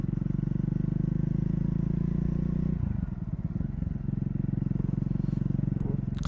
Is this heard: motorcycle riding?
yes